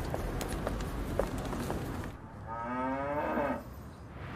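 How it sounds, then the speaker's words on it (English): A dairy cow on a British farm lets out one loud, close moo with a rising, harmonic-rich tone, preceded by outdoor rustle and muffled background noise. "We even got the help of Lulu, Britain's cutest cow."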